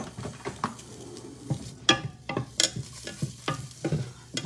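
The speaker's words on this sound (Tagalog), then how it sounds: "Gigisahin ko lang yan." A pan sizzles as sardines and luffa are sautéed, with a utensil stirring and scraping in quick, uneven strokes and small clinks against the pan over a steady frying hiss, close and moderately loud, and no talking.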